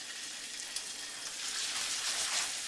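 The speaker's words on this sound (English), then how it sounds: "So I'll add just a little bit of oil to the pan. Make sure that's nice and hot. And then sear off my tuna." Tuna steak searing in a little hot oil in a sauté pan gives a steady, close, bright sizzle that swells slightly toward the end, with no voices.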